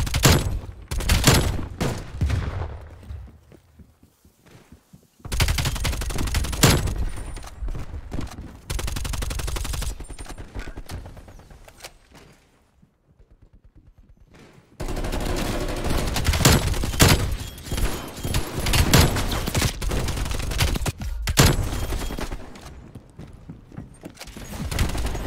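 Rapid bursts of AK74u automatic fire in a Call of Duty: Cold War 6v6 multiplayer match, loud and close, coming in two long stretches separated by brief quieter gaps, with no talking.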